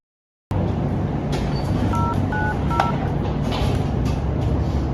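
Three short dialing tones beep in quick succession over a steady vehicle-like rumble as a telephone call is connected, with no one speaking.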